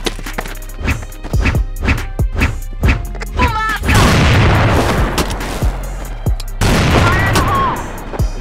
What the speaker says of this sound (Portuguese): Granada de fumaça!